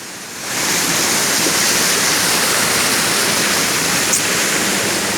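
Ta Thaen waterfall pours in a steady, loud, broadband rush of falling water that swells in after the first half second and then holds constant throughout, with no voices.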